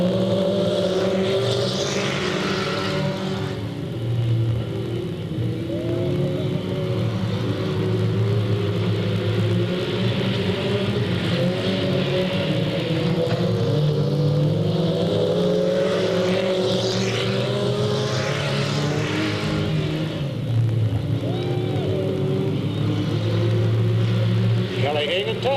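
Stock cars race at Delta Speedway under green, engines roaring and surging in a continuous wash of rising and falling revs while a commentator talks over the pack.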